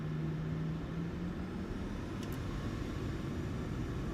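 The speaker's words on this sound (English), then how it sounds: "Alright, throttle's coming up." Aircraft engines spool up as the throttle advances in Microsoft Flight Simulator 2024, a steady low rumble with broadband hiss holding at moderate level throughout, no voices.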